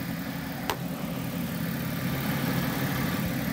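The engine of a 2003–2006 Lincoln LS runs at a steady idle, a continuous low, even rumble heard up close with a single faint click near the start.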